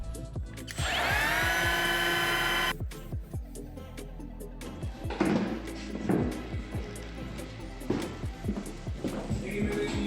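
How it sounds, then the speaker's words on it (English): A power planer runs over a piece of wood with a loud, sustained whine for about two seconds, then stops, followed by a series of knocks and handling sounds. "I've got to plane this piece of wood to go in the old latch hole"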